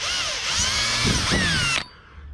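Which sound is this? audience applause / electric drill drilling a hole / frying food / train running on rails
electric drill drilling a hole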